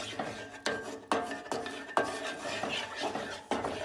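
Butter stirred into a Dijon pan sauce for pork tenderloin: repeated scraping and clinking strokes of a utensil against the pan, roughly twice a second, close and fairly loud over a low background hiss.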